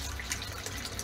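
Water running steadily into the tank of a homemade solar water heater, a continuous faint splashing and gurgling flow with small bright droplet sounds, alone and without talk.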